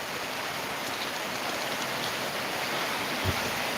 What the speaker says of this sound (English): Alright, here comes the rain. Here comes the rain again.